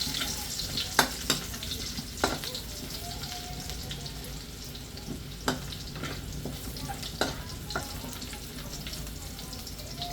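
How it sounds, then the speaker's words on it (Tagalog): Garlic sautéing in a pan for misua soup: a steady, fairly quiet sizzle with several sharp spatula taps and stirs scattered throughout, and faint kitchen water noise beneath. "Isayin natin yung bawang."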